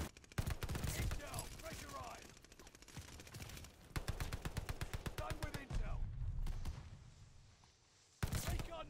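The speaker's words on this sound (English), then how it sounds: "I hear the shotguns, they're so scary!" Rapid gunfire in the Call of Duty Vanguard shooter, loud bursts and repeated sharp shots in quick succession over several seconds, with a voice heard faintly among the shots.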